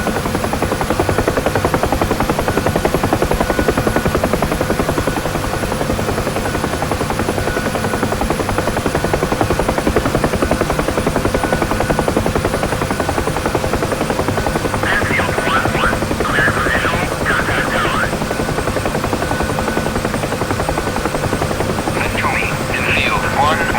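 A UH-1 Huey helicopter's rotor in the DCS flight simulator drones loud and continuous with a steady thudding whine near overspeed, while a voice talks over it now and then.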